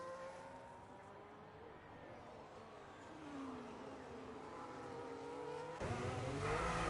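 Racing car engines from a racing video game on the Belgian GP circuit, including a spinning Aston Martin, drone and rise steadily in pitch, a continuous revving roar that swells louder toward the end.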